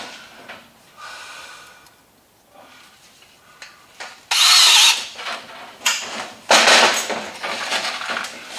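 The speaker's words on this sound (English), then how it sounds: "And then we'll go ahead and put a screw down here." A power drill drives a screw into a steel stud during window framing, heard as two short, loud, harsh whirring bursts after quieter handling noises.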